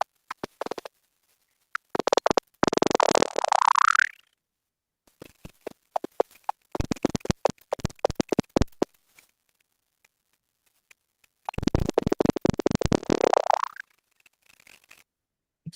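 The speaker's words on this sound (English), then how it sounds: "So that's the call of a leaf-nosed bat." Call of a leaf-nosed bat, heard as several bursts of rapid pulsed buzzing that sweep downward, loud and close, separated by short silences with scattered clicks between them.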